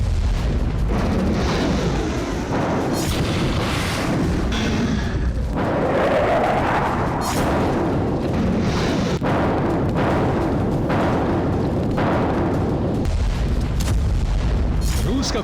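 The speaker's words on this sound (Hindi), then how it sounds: "यहां हर घंटे इतना बारूद बरस रहा है जो एक पूरे के पूरे शहर को राख बना डाले" Artillery shelling and explosions in Kursk during wartime, a dense continuous roar of booms and blasts, loud and sustained, with repeated heavy impacts layered over a constant rumble.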